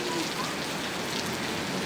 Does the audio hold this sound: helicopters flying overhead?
no